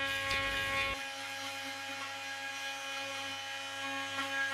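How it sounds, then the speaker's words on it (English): A Bosch GOP 300 CE Professional oscillating multi cutter with a grout remover blade buzzes steadily at a high, tight pitch after a brief rougher start, running alone without talk. "The AV70 RT 3 Max grout remover will remove grout and adhesive even in the most inaccessible corners."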